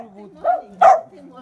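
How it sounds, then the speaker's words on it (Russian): A small new family dog gives two short yappy barks indoors, close and fairly loud, while someone talks softly to it around the barks. "Наша новая собачка."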